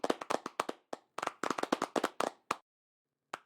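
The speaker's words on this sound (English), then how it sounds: "I see a lot of people in the audience clapping." Audience clapping at an emergency-response VR and AR event, sparse and uneven: separate claps from several people in quick bursts, then a pause of nearly a second before a few more.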